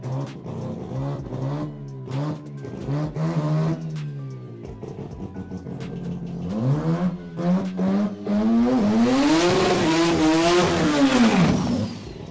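A 13B rotary turbo race car at a no-prep drag racing event revs in short blips, then climbs into a long, loud rising rev that peaks and falls back, close by and with no talk.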